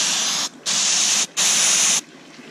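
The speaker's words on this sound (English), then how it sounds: "So you're going to just do this all the way down the tree, spraying from the top." Three steady bursts of hissing flocking spray onto an artificial Christmas tree, each lasting about half a second, separated by brief pauses, close and loud.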